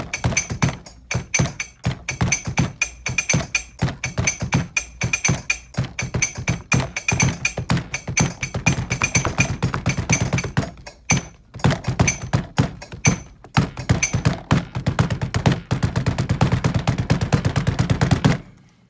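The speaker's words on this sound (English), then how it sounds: "So Rebecca X Ray started this project where she took a video from Stormville banging on mugs at home, and Rebecca edited it into a steady beat." Mugs banged at home as improvised drums, edited into a steady beat: rapid, sharp percussive knocks repeating densely and loudly throughout, with no talking.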